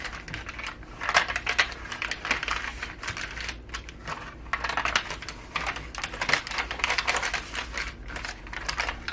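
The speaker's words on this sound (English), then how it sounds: "now we're going to start folding our pages" Paper pages of a rose-themed country junk journal being folded and handled, giving a steady run of soft crinkling and rustling bursts that rise and fall over several seconds, close and alone with no talk.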